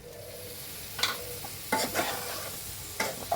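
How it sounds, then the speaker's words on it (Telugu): Homemade chicken pickle is stirred after lemon juice goes in, with a faint background sizzle broken by a few soft scraping strokes of the spoon. "నిమ్మరసం వేసిన తర్వాత మొత్తం అన్నీ శుభ్రంగా కలుపుకోవాలి"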